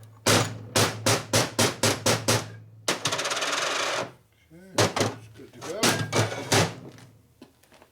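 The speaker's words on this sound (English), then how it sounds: "the bushing has popped out a little bit, so I need to knock it down a little bit" Hammer blows knock a popped-out bushing back into a junk Harley panhead race motor, a rapid run of sharp metallic strikes, then a burst of rattling noise and more scattered hits, with some talk between.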